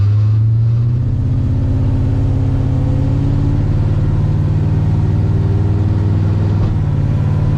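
A car with an LSA engine in a Mustang drives along, a loud, steady low engine drone with a slight rise in pitch early on, continuous and close with no talking.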